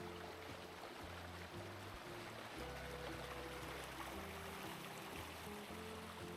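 Spring water flowing steadily through town springs in Paderborn, Germany, a continuous close rushing and trickling wash with a low rumble underneath, no voices.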